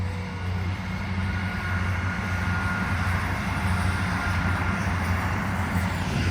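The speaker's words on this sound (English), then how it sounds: "A train!" A train rumbles past steadily near a seaside town, a continuous loud low roar and rattle with no clear start or stop, heard outdoors without talk.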